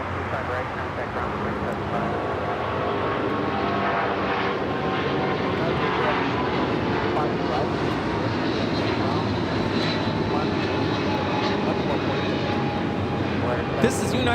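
A United Airlines Boeing 777-200 takes off at Los Angeles, a steady broad engine roar at moderate distance running throughout, with voices talking over it.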